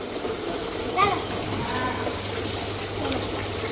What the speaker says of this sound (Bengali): দেখেন, ঝর্ণা